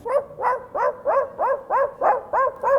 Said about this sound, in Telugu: తప్పిపోయిన కుక్క పిల్లలు వచ్చేసాయి దగ్గరికి.